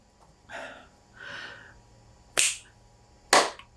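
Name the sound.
hands clapping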